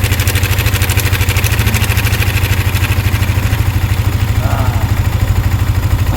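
Yamaha Sniper 155 motorcycle engine idles after a tensioner replacement, a steady close rhythmic putter with even pulses throughout, with a voice briefly audible over it.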